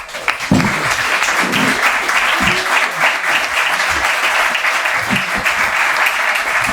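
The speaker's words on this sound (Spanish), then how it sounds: "un aplauso." Lecture audience at a talk on group hatred and identity breaks into sustained, loud applause, dense clapping filling the room from start to finish.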